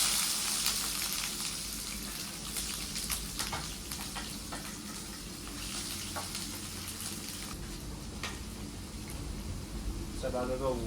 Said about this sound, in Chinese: 先把生姜、大蒜搞下锅。